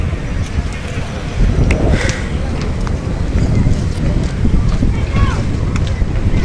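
Wind gusts across a riverside, a loud rushing buffet against the microphone with a steady broadband roar and faint background sounds, and a voice speaks briefly at times.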